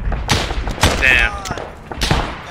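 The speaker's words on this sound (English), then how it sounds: "I'm shooting too slow" Gunfire in ArmA 3 with a WW2 mod, a handful of loud, booming individual shots spaced unevenly and close up, with a voice briefly audible between them.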